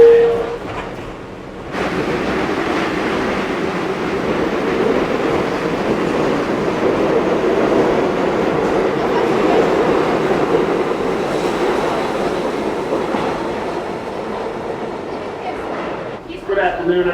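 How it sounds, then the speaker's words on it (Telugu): New York subway shuttle train running underground toward Times Square: a steady, loud rumble of wheels and carriage noise with faint clatter, starting after a brief quieter moment and continuing throughout, with people talking faintly. "మేము కూడా ఫస్ట్ టైం ఎక్కుతున్నాం సబ్వే."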